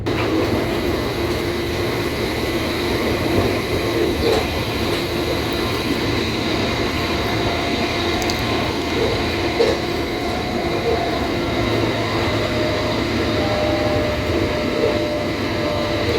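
Continuous rumble of a moving train from inside the carriage, with a steady droning hum and faint rattles and clicks throughout; no talking.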